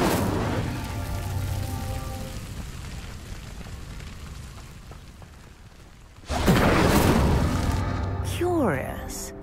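Incendio fire spell igniting a pyre in Hogwarts Legacy, a sudden loud whooshing roar of flames that bursts in late and keeps crackling, with a voice calling out beneath the steady ambient rumble.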